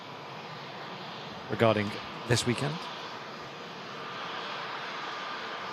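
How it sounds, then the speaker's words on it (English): A plane approaching Manchester Airport gives a continuous broad engine roar that swells slightly toward the end, while someone speaks briefly over it. "I can see this next aircraft on approach."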